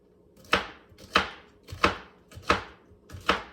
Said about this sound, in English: I'm gonna chop off that little end